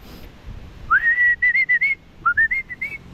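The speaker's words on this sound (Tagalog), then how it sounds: "Yung mga sipol kong yan, mga farmer." A person whistles on a farm to call pigeons after heavy rain: two loud, close bursts of rising, warbling whistles, each broken into several short pulses, against a quiet outdoor background.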